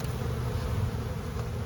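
Honey bees buzz steadily at an opened feral hive during a brood box swap, a dense, continuous low drone of many insects close by with no pauses.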